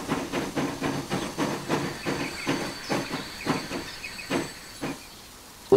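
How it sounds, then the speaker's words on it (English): Train passing in Transport Fever 2, a steady rhythmic chuffing pulse of hissy beats, fairly close and even, fading toward the end. "So we do have to wait for that train to come through first."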